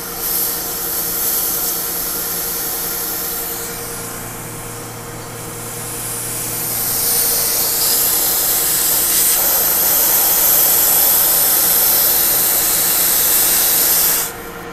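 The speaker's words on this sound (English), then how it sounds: "So we got some liquid coming out of there. So we know that this line has been purged to the liquid line filter dryer." Refrigerant hissing out of the refrigeration lines as they are bled before charging, a loud continuous close hiss that swells and shifts in pitch and then stops abruptly at the end.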